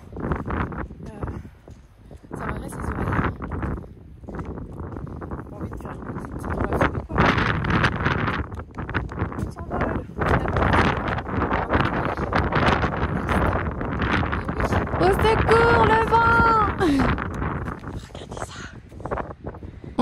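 Strong coastal wind buffets the microphone on a hiking trail near Pointe du Raz and Plogoff in Brittany, with continuous roaring gusts under someone talking in French, and a bird calls briefly.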